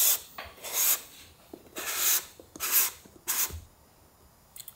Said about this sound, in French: On prend le filtre polarisant, on le visse comme un filtre traditionnel